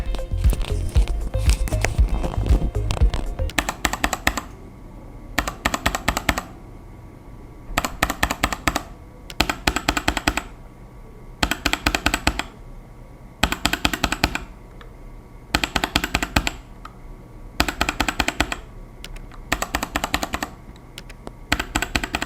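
Bursts of clacky mechanical keyboard typing on an RK68 Pro aluminium keyboard with Gateron Brown switches come in short, regular clusters separated by brief pauses, crisp and close, with a busier stretch of keystrokes at the start.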